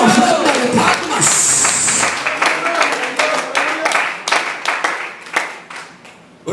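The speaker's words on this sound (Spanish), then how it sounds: "démosle a él una ofrenda de palmas" A church congregation claps its hands in worship as an offering of praise, with crowded clapping and voices at first and sharper, scattered claps carrying on under and between talk.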